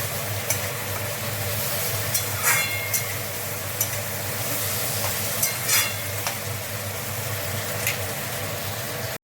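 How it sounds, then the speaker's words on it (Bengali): Pumpkin and onion sizzle in oil while being stirred, a constant close hiss broken by occasional spoon scrapes and clicks against the pan, with no voices. "কুমড়ো আর পেঁয়াজ দিয়ে একটু নেড়ে চেড়ে নিয়েছি"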